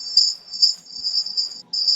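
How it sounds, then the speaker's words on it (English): A bee from Minecraft gives a steady, thin high buzz that holds almost unbroken for two seconds, with one brief dropout near the end. "Hey, little bee"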